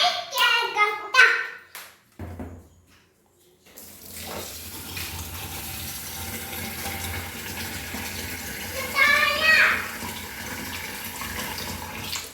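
Hands swish and slosh through water in a bowl while washing rice, a running, splashing texture that pauses briefly, then continues steadily with a louder burst of stirring.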